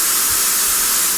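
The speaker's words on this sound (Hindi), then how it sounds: "ये आवाज़ दरअसल जो है वो वाइट नॉइज़ के ज़ुमरे में आती है" Steady, loud white noise fills the whole moment, a dense, even hiss like a fast fan or rushing steam, unbroken and with no voices.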